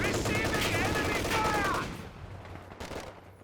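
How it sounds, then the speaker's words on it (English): Machine gun fire and battle noise from a Company of Heroes 2 3v3 match on the Big Steppes map, with a dense burst of shots under a voice that fades into quieter, scattered distant firing. "they probably got forced away by the machine gun"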